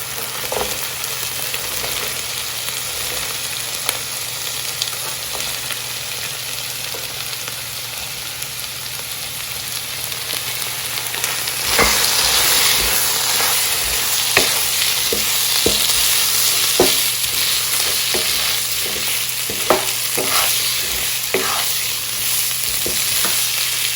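Mixed vegetables stir-frying in a hot pan with ginger for chicken Manchurian, a steady sizzle that grows louder about halfway through, with occasional sharp crackles and scrapes of stirring, close and without talk.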